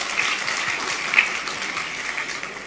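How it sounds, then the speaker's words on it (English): Audience applause at a Hall of Fame ceremony, steady dense clapping sustained for the whole stretch with no talk over it. "That calls for an applause."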